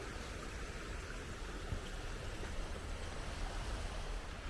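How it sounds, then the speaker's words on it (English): Water spilling out of a Welsh mountainside to start a new stream, a continuous soft rushing wash heard alone at a faint, even level without pause. "water coming out of the mountain and the start of a new stream"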